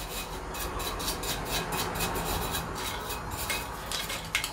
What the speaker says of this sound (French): après avec le petit brosse magique, vous rentrez bien dans les ailettes.